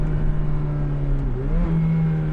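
A car engine droning steadily from inside the cabin as it drives, with a low hum that dips briefly and then climbs again as the car picks up speed.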